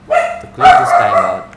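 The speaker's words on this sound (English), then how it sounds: "Excuse my dog." A pet dog barks indoors, two sharp barks close together, loud and near, while a person keeps talking over them.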